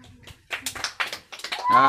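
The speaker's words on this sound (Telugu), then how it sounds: "క్లాప్స్ కొట్టండి." A small group claps briefly during a number-guessing game, with scattered uneven claps mixed with voices talking over them.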